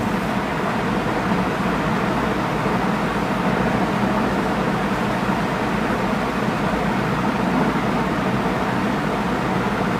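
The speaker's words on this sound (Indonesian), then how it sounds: "Hujan kah di sana? Bukan, ini suara kipas." A steady broadband whir runs unchanged for the whole clip, like an electric fan blowing nearby with no other sounds.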